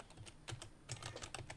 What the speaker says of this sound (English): So I'm going to do type over that